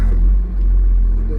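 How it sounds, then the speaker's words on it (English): A Timbco feller buncher's saw disc spinning up: a heavy machine's steady low rumble, a powerful hydraulic drone that holds nearly level throughout, close and loud. "So, disc on. Hear it idling up,"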